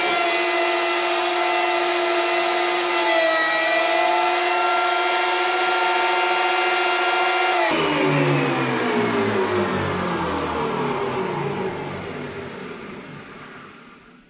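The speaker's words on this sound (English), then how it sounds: "I'll get my planer set up" A thickness planer runs boards through with a loud, steady motor whine and cutting roar that shifts partway through as the board exits, then the machine spins down and fades toward the end.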